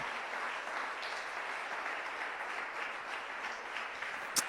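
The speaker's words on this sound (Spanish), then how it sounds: "Un aplauso para Él en esta noche" Applause from a church congregation, a steady distant wash of many hands clapping at low level, with a sharp tap near the end.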